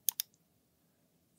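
Two quick mouse clicks, close and crisp, followed by near silence.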